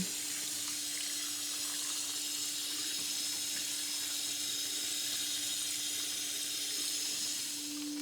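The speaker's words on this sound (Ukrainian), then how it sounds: "Гарненько промиваємо наші опеньки холодною стічною водою" Cold water runs steadily from a tap, a constant rushing hiss as honey mushrooms are rinsed beneath it.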